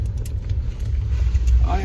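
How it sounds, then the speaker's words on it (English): Cars pass by with a steady low road rumble, fairly close and continuous, while people talk and exclaim nearby. "Look at all the cars."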